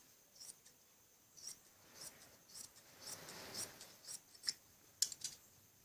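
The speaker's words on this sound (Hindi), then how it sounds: "जो एक्स्ट्रा कपड़ा है इसको काट लेते हैं।" Scissors snip through extra fabric around a kameez neckline in a string of short, quiet, close-up cuts with soft rustling between them.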